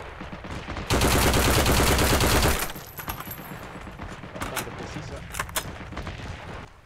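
A sustained burst of rapid automatic gunfire in the video game Heroes & Generals, loud and dense, followed by scattered single shots and clicks.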